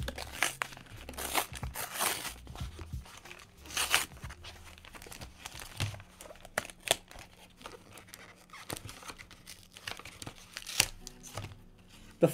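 Foil booster pack wrappers from the Vivid Voltage trading card set being torn open, with repeated sharp crinkling and ripping bursts close up, scattered irregularly over a quiet background.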